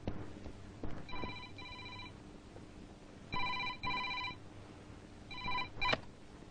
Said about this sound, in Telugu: బాబు, నీకు ఎస్పీ గారి ఆఫీస్ నుంచి ఫోన్.